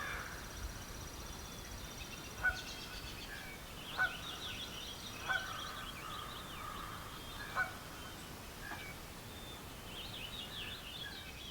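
A few short honking calls from geese ring out at intervals over a steady lakeside outdoor background, moderately distant, with faint bird chatter between them.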